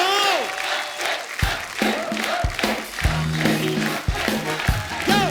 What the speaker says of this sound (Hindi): जोरदार तालियां एक बार अक्षय बाजी के लिए।